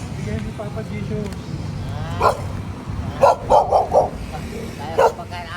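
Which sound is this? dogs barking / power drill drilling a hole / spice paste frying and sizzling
dogs barking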